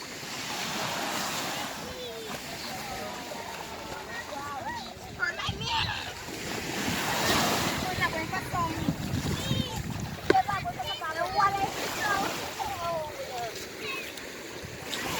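Ocean surf on Grand Anse Beach washes steadily in the background while people talk and chatter nearby over the moderately loud, continuous rush of the waves.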